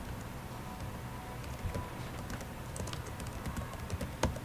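Typing on a computer keyboard while entering database code, a fairly quiet run of irregular key clicks heard close up, with a louder keystroke near the end and no talking.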